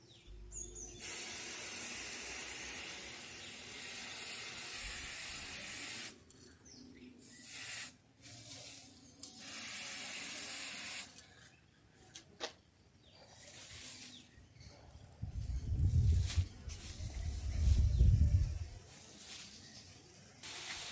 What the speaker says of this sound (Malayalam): നമ്മളിപ്പോൾ ഇതാ സ്പ്രേ അടിച്ചാണ്